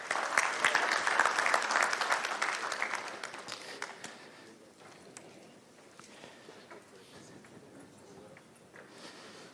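Audience applause during a trophy presentation at an insurance conference, loud and dense for the first four seconds, then thinning into scattered claps and faint crowd murmur.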